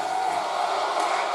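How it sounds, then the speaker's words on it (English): A crowd in an NHL 25 hockey game between the Flames and Maple Leafs boos a chant, filling the arena with a steady, dense roar that holds at an even level throughout. "They're starting to boo on that chant."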